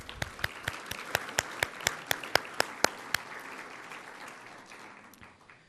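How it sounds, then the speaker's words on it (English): Audience applause at a philanthropy event, sharp separate claps at a quick steady rhythm that thin out and fade to a low murmur. "I would like us all to give them a round of applause."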